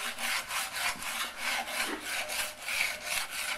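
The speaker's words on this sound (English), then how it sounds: "Okay, so now he's going to sand it." Sandpaper is rubbed over a carved piece of wood that was shaped from a block. Steady, rhythmic back-and-forth strokes scrape along close by with no speech.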